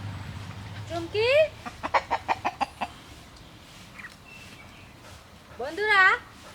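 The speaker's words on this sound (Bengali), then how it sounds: "বন্ধুরা, একটা খুব বড় মোরগ আছে" A large rooster clucks in a quick run of short, sharp clucks, with a louder, drawn-out call before and after. It sounds close by on a village farm, and a person speaks faintly at the start.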